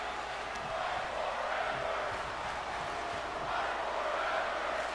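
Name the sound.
crowd chanting 'fight forever' in WWE 2K24 video game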